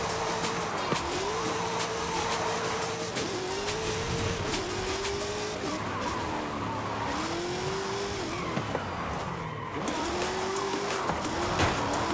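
A car drifting in Forza Horizon 5, its engine droning steadily while tires squeal in long rising and falling wails through repeated slides, loud and continuous throughout.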